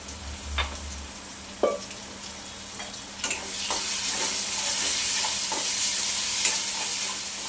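Chicken gravy masala fries in oil with a soft, steady sizzle and hiss, punctuated by a few clinks of a spoon stirring against the pan, fairly quiet and close.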